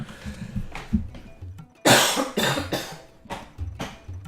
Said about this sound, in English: I got a cough again.